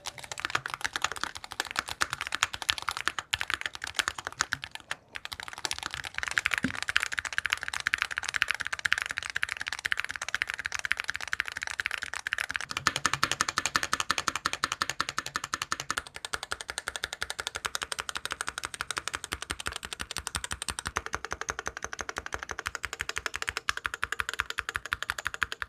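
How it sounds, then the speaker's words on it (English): Continuous rapid typing on a stock Meletrix Boog75 mechanical keyboard, keys clacking in a dense, steady stream with brief pauses, close and clear with no talking. "here's the sound test of the completely stock out-of-box Meletrix Boog75"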